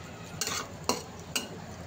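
Cashews, raisins and cardamom are stirred in a pan while lightly frying, with three quick scraping strokes of a spoon over a soft, steady sizzle.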